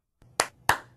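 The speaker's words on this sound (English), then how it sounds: "Clap on, clap off." Two sharp hand claps, close and crisp, about a third of a second apart, used to trigger a Clapper sound-activated switch in an otherwise quiet room.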